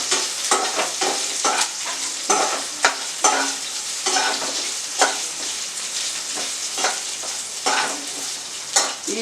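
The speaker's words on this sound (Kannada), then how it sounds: "ಈಗ ಇದನ್ನು ಸ್ವಲ್ಪ ಫ್ರೈ ಮಾಡ್ಕೊತೀನಿ. ಮತ್ತು ಅದ್ರ ಜೊತೆಗೇ ಹಸಿಮೆಣಸಿನ್ಕಾಯಿ, ಅದು ಎಣ್ಣೆನಲ್ಲೇ ಚೆನ್ನಾಗಿ ಫ್ಲೇವರ್ ಬಿಡಲಿ." Green chillies fry in oil for chicken chops, a steady sizzle punctuated by regular clanks and scrapes of a spoon stirring in the pan, with no talking.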